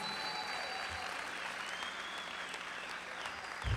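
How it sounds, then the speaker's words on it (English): Steady applause from a graduation ceremony audience honoring the graduates' family, friends, faculty and staff, heard from a distance as a sustained, even wash of clapping through the hall. "let's give a round of applause to all the family and friends who got you, and faculty and staff"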